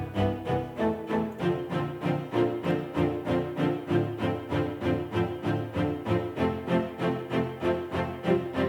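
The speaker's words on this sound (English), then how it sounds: "they were just MIDI strings, and they sound like this." MIDI string ensemble from a song demo playing a dense chordal part with a steady pulsing rhythm, full-bodied and continuous, with no voices over it.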